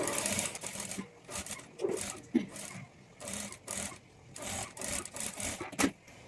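A sewing machine stitches along the main fabric of a sleeve with thread piping at the edge, running in a string of short, close whirring bursts with brief pauses between.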